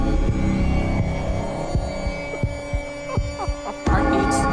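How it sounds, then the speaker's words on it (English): A heartbeat effect from the horror video game Living Nightmares: low, soft thuds repeat at a steady pulse over a constant droning hum, with no voices. "Heartbeats."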